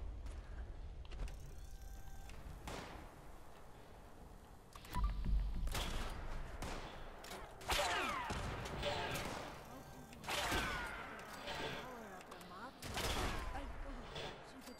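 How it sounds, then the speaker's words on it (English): Gunfire in Fallout 76 sounds as repeated bursts of shots and thuds in a busy, dense mix of game sounds, with no one speaking. "Who the hell's shooting me?"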